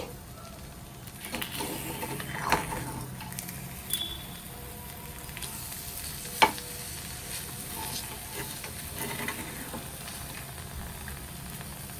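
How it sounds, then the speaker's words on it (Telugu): Egg curry ingredients are stirred in a pot, with soft scraping and a low bubbling sizzle running throughout and a few sharper clinks of the spoon against the pot. "ఇలా అన్నీ తిరిగేసుకోవాలి"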